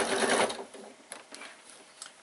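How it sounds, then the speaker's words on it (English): A sewing machine runs in a close, fast burst while stitching around the shape of a fabric bag, then drops to softer, intermittent ticks and short whirs. "sewing around the shape of the bag"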